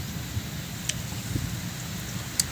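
Steady rain falls on a rural farm after harvest, a soft continuous patter with a few sharper drops, moderately close and without speech.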